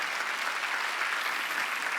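A church congregation at a Wednesday worship service claps together in a dense, continuous wash of applause, moderately loud and steady throughout.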